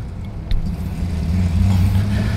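A Jeep Wrangler Rubicon pulls away on dirt park roads, its engine rumble rising steadily and loudly from inside the cabin after a brief knock.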